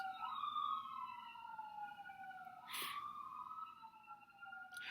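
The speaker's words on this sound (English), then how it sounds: "I hear sirens, and this time I feel them too." A wailing siren sweeps up and down in pitch, loud and close, with a second siren layered in as emergency vehicles pass by on a long, straight evacuation route.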